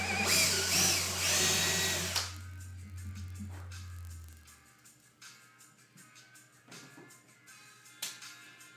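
A power drill drives a drywall plug in a loud, whirring burst lasting about two seconds, then winds down, followed by quieter clicks and handling sounds.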